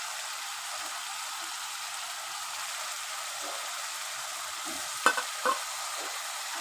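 Chicken fries in a pan with a soft, steady hiss of sizzling oil, fairly quiet and even, with a couple of brief clinks near the end.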